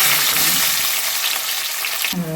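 Curry leaves crackling and sizzling in hot oil for a chicken curry, a dense steady frying hiss throughout with a brief stir or clatter near the end.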